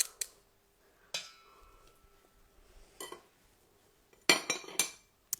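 A metal utensil scrapes and clinks against a bowl of cucumber kimchi mixture with green onion: several short, sharp scraping bursts, close and fairly loud, separated by quiet pauses.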